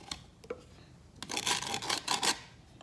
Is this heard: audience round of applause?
no